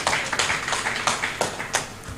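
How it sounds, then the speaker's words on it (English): Applause from a conference audience, a steady patter of many hands clapping close by, continuing throughout without a break. "Please, a round of applause for her once more."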